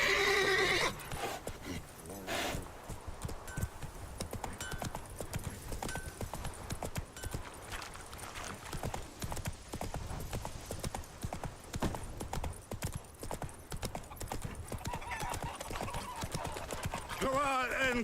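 Roach, a horse in The Witcher 3 video game, gallops with steady clip-clop hoofbeats and neighs loudly, the hooves running throughout over game music and a brief spoken line.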